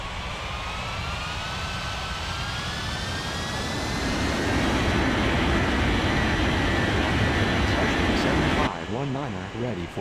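A China Eastern airliner rolls for takeoff on runway 36, a loud sustained jet engine roar that swells and holds with rising whine tones, then breaks off abruptly near the end into a different close rumble.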